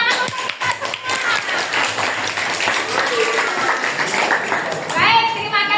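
Students applauding in a classroom, a broad clapping texture running throughout with children's voices and an adult speaking over it, the clapping fading as talk takes over at the end.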